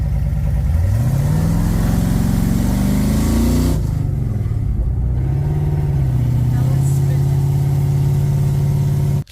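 Classic truck engine pulling away on a street, its drone climbing steadily in pitch as it accelerates, dipping, then holding a steady loud hum near the listener.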